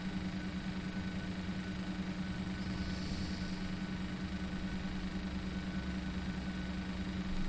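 Boeing 737-800 engines in the PMDG flight simulator spin up as a steady, even drone with a low hum that holds without a break.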